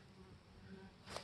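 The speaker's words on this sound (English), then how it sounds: "I'm going to shake the bees off." Faint, steady buzzing of honeybees around a Langstroth hive during an inspection, low droning hum with a brief louder burst near the end, no talking.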